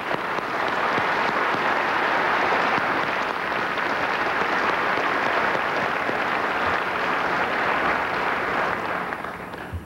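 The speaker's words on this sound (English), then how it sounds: "a well-deserved round of applause" Sustained applause from a large crowd at the 2001 NASCAR Awards Banquet, dense and steady for about ten seconds without letting up.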